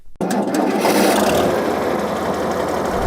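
A John Deere 4020 tractor engine starts up and runs steadily, a loud, continuous mechanical chugging with a dense rattling texture that stays even and near throughout.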